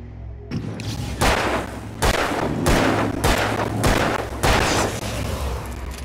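Gunfire in the Alan Wake video game: about six loud, close shots at uneven intervals, each a sharp blast with a short decaying tail, over a steady low drone with no talking.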